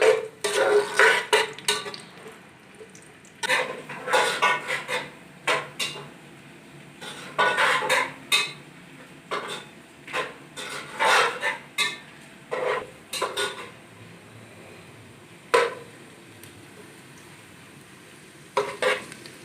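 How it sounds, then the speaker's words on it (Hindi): Chopped onions browning in half a cup of hot oil in a pot, stirred with a spoon that clanks and scrapes against the metal in irregular bursts over a faint, steady sizzle. "प्याज को अच्छी तरह ब्राउन कर लेंगे।"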